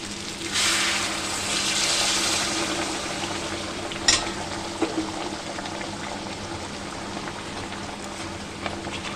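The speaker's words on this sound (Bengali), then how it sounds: "এখানে আমি উষ্ণ একটু গরম জল এই উষ্ণ গরম জলটা এবার দিয়ে দেবো" Warm water is poured into a pot of browned home-style chicken curry, a rushing pour that swells then fades into the soft sizzle and bubbling of the cooking meat, with a few clinks of a utensil.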